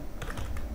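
Keys clatter on a computer keyboard in a brief burst of three or four quick, close taps with faint room noise behind them.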